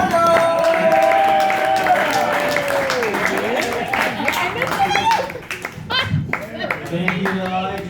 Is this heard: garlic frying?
no